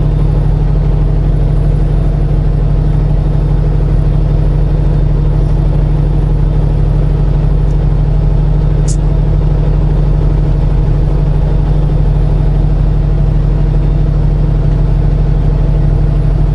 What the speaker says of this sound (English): right now we are doing about 32 miles per hour, about 1500 RPM on the 8th gear